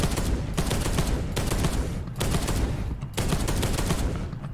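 Heavy storm bolter fire from the video game Space Hulk Deathwing, loud sustained bursts of thudding automatic shots broken by short gaps, close and dominant with no talking.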